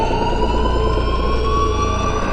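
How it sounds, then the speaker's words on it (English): A steady, unbroken alarm siren wails continuously at a constant pitch, loud and close, with no other sounds, in the 2007 film Halloween. "the only thing we the audience hear is a persistent alarm siren"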